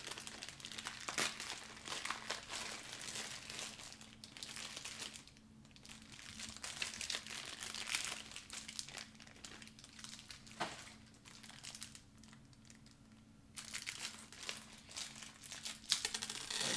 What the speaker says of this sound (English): Might have to open another hardware baggie.